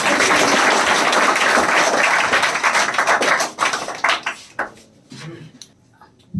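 Spoken English class clapping for classmates, a dense burst of applause that thins into scattered claps and fades out.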